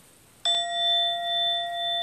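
A single meditation timer bell is struck once, ringing clear and bright, its pure tone sustaining and slowly pulsing as it fades.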